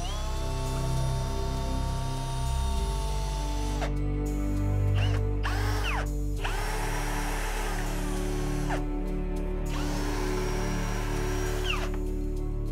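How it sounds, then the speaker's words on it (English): Power drill with a large bit driving out big screws from a window frame during wall demolition, loud whirring bursts that start, stop and change pitch several times, close and alone. "So we take the drill with the relevant bit, obviously check the bit fits because these are quite big screws."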